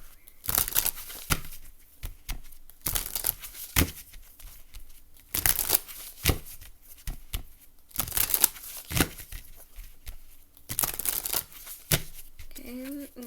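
Repeated bursts of tarot card shuffling, crisp riffling rustles in clusters with short pauses between, fairly close, and a brief voice near the end.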